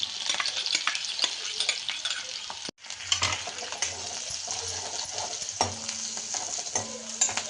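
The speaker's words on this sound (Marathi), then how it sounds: "लसूण आणि मिरची चांगली तळून घ्यायची." Garlic and green chilies frying in hot oil for a home-style methi bhaji, with a steady close sizzle, stirring scrapes and a brief break near the middle.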